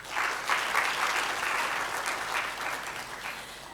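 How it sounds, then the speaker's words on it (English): An audience at an international student arrival and readiness talk applauds, a dense, even burst of clapping that holds for several seconds and then starts to thin out. "Big round of applause to Nick."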